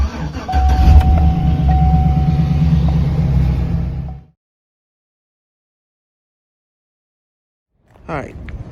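A pickup truck engine, dirty and not driven in a while, rumbles loudly and steadily up close for about four seconds before cutting off into silence, with a brief faint noise near the end.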